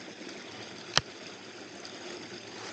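A waterfall on a nature walk gives a steady, even rush of falling water that fills the whole span, with one brief sharp click near the start.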